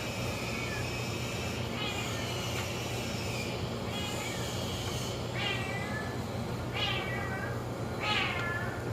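A cat meows loudly and repeatedly in a garage during a Wintersteiger oil change, with about half a dozen rising, drawn-out calls over a steady low hum of machinery.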